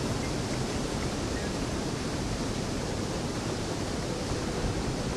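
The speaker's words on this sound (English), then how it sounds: "It's just up on the waterfall." A waterfall in the game Visions of Eternity rushes in a steady, dense roar that stays loud and unbroken throughout.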